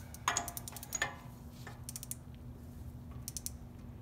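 An inch-pound torque wrench tightens a wheel bearing nut on a 2011-or-later Ford F-250/F-350 front hub, giving a few sharp ratcheting clicks in small bursts, close up, over a low steady hum.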